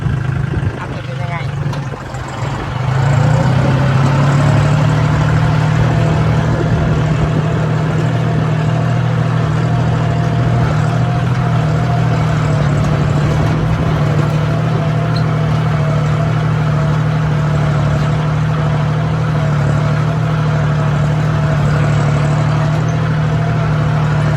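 A tractor fitted with a disc plough runs with a steady, loud mid-pitched engine drone that holds nearly constant from start to end, recorded up close from on board.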